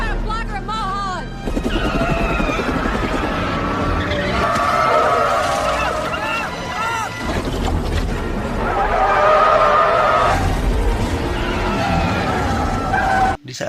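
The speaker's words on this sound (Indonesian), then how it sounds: "Segera Peach dan timnya mengejar mobil Seal sambil meminta bantuan helikopter menuju bukit." Car chase in a film, with engines roaring, tyres skidding and screeching in long swells, heavy impacts and rumbling effects, loud and dense, mixed with voices and music.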